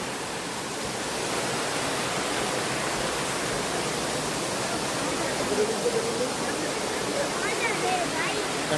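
A combined view of three waterfalls in Meghalaya gives a steady, dense roar of falling water that fills the scene evenly from start to finish, with a faint voice now and then beneath it.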